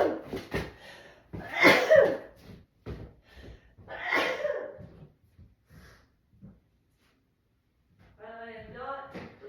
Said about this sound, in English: Now, I have to go sneeze.